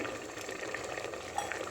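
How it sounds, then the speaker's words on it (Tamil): Water bubbling and boiling steadily in a pot for cooking toor dal idli, a continuous close rolling hiss with small pops, no talking. "தண்ணி நல்லா கொதிக்குது."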